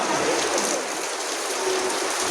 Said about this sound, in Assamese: এতিয়া অকণমান বাহিৰৰ ফালে ওলাই আহিছোঁ, কিন্তু বাহিৰত বৰষুণ যে।